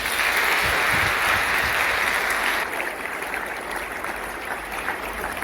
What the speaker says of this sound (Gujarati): એકવાર જોરદાર તાળીઓ સાથે